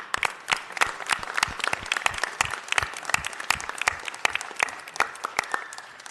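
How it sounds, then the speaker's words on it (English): A room full of people at a city council meeting applauds a championship-winning team, with dense, steady clapping that carries on throughout. "Let's really give them a round of applause for winning this championship."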